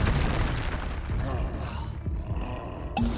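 Expelliarmus spell cast in the Hogwarts Legacy video game: a loud magical blast with a roaring, booming burst and rumbling effects, ending in a sharp bright impact.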